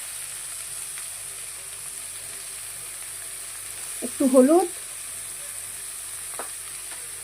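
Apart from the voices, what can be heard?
semolina upma tempering frying in pan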